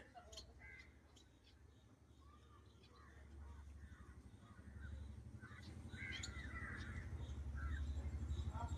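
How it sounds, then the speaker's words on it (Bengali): Sparrows feeding in a rice paddy field chirp and call in scattered bursts, faint and at a distance, over a low outdoor rumble that slowly grows. "এই যে প্রচুর পরিমাণে পাখি আছে, ধান ভুঁইতে সব বসে বসে খাচ্ছে।"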